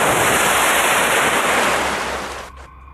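Ocean waves roll and hiss in a loud, continuous rush of surf that fades toward the end, followed by a brief sharp sound.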